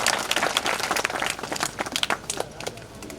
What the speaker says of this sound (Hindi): जोरदार तालियां बजाएंगे